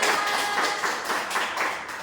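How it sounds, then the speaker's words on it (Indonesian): Classmates in a school peer-teaching session clap for a group, a short burst of brisk, fairly close handclaps in an uneven rhythm that fades toward the end. "Tepuk tangan untuk kelompok 2."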